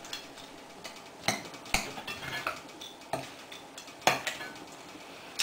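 A quinoa salad seasoned with cayenne and cracked black pepper is mixed in a bowl, the utensil giving a few scattered, sharp clinks against the dish over a quiet background, with no talking.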